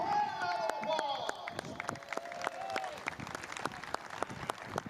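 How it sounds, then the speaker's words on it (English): A crowd at a Palomino World Series championship baseball game applauds the runners-up team from Azusa, California, with scattered, uneven claps ringing out over a high, wavering tone and background noise. "Give them a big round of applause."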